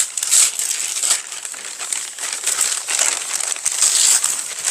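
A paper bodice pattern is folded at the dart, giving loud, close, continuous crinkling and rustling of paper with no pauses.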